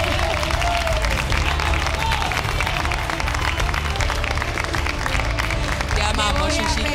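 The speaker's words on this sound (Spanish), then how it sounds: "¡Aplauso de pie!" Studio audience applauding and cheering through the whole stretch on an Argentine TV variety show, dense steady clapping with crowd noise and some voices mixed in.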